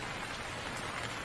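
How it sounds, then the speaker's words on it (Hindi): Heavy rain during a storm in a cartoon, a dense, steady hiss of downpour at constant loudness throughout, with no voices or other sounds. "कुछ समय बाद बारिश तूफान में बदल जाती है। बहुत ज़्यादा हवाएं, बहुत ज़्यादा बारिश"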